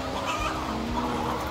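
Chickens from a backyard egg-laying flock cluck close by in a short, continuous burst of overlapping calls.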